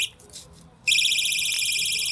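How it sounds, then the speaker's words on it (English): A fire alarm sounds during a test, switching on abruptly after a quiet moment into a loud, close, continuous high-pitched pulsing tone that holds steady to the end. "that was my test with the alarm and the Spectral Alert Advanced"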